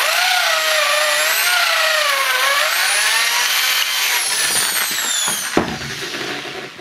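A power drill with a long, slightly oversized bit bores a hole through wood, giving a steady close-up motor whine that rises and falls in pitch. It cuts off abruptly near the end, with no talking.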